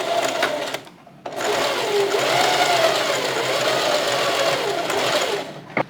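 A sewing machine runs a narrow zigzag stitch, about 1.5 wide and 2.5 long, in a steady close whir that pauses briefly near the start and then carries on evenly to the end.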